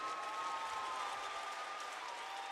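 A crowd applauds at a live Rainbow Six Siege Year 9 roadmap reveal event, producing a steady, dense clatter of clapping that holds at an even level throughout.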